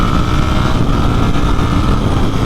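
A lightweight, agile motorcycle is ridden along the road, its engine a steady, close drone under heavy wind rush that holds level without pause and has no talk over it.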